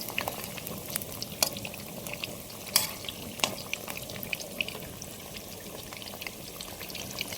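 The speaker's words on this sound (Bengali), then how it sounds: "আমাদের চিকেন পকোড়া পুরো ফাইনাল ভাজা হয়ে গেছে" Egg-free chicken pakoras deep-fry in hot oil with a steady, close bubbling crackle and scattered sharp pops and clicks throughout, with no voices.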